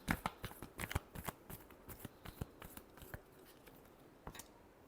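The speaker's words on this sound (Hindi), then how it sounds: "Last shuffle." Tarot cards are shuffled by hand in a quick series of crisp riffling snaps and flutters, close and fairly quiet, with no talking.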